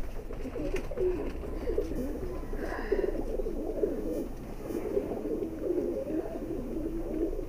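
A female high-flyer pigeon coos in soft, repeated throaty phrases, close by, over a low background murmur.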